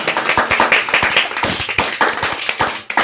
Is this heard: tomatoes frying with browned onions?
no